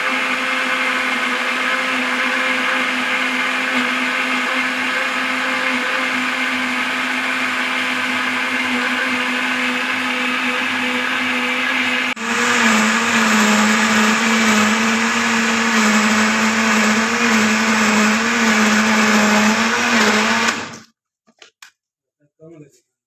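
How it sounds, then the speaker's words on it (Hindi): A mixer grinder whirs steadily as it purees mango pulp in a jar, its motor pitch rising after a pause midway, loud and close, then cutting off abruptly with a couple of faint knocks. "इस तरीके से सारे को ग्राइंड कर लेना है।"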